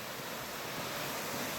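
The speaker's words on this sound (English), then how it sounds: "So there's a little man-made waterfall." A small man-made waterfall along a mountain cemetery path, flowing as a steady broadband rush of water, continuous and fairly close with no other sounds.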